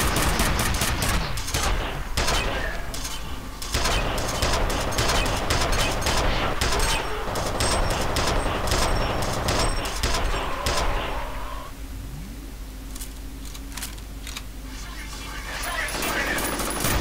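Continuous rapid automatic weapon fire in the first-person shooter FEAR, loud and dense bursts for about eleven seconds, then trailing off into quieter game ambience with a few scattered sounds.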